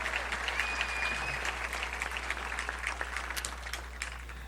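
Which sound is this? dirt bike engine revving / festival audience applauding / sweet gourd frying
festival audience applauding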